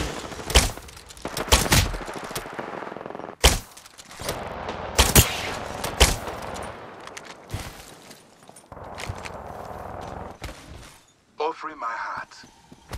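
Rapid gunfire bursts from Apex Legends, loud sharp volleys scattered across the scene with pauses between, mixed with game effects and footsteps-like clatter.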